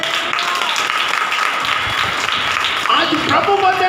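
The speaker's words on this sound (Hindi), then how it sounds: "ताली बजाकर" Congregation clapping during a Hindi Bible study sermon, a steady dense wash of hands lasting the whole stretch, with voices mixed in underneath.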